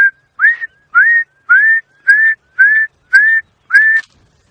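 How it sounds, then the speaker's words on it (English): A black-crowned tchagra on a sunrise safari drive gives a series of eight clear, loud whistled notes. Each note slides upward and the notes come at an even pace before the call stops. "And also a lovely call of the black-crowned chagra."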